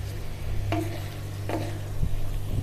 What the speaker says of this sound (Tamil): அரிசியை இப்போ ஒரு நிமிஷம் இந்த எண்ணெயில் வணக்கிக்குங்க.